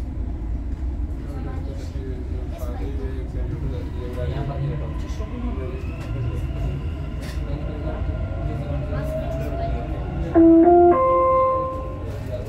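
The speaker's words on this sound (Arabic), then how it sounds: "Doors closing." A Dubai Metro train rumbles steadily, then a door-closing chime of a few bright tones sounds near the end, with Arabic and English announcements spoken over the noise.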